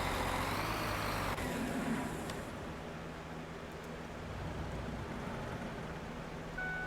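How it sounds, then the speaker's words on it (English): A farm vehicle engine runs in the video game Farming Simulator 19, a steady low mechanical rumble that drops in tone and loudness after the first second, then carries on evenly until the end. "Oh, the engine was on."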